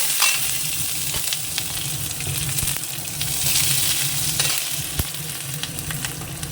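Nigella seeds, a dried chili, green chilies and garlic frying in hot oil make a loud, close, continuous sizzle with crackling pops and occasional stirring clicks, and no voices.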